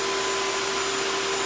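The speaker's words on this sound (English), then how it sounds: "He's not going to be scared of the dryer anymore." A blow dryer runs steadily and loudly with a constant high whine and airy rush, used while grooming a fearful dog, with no voices over it.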